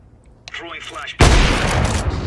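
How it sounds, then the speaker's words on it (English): A flashbang grenade detonates in CS2 with a sudden, loud broadband blast that holds as a sustained roar, right after a brief spoken line. "Throwing flashbang."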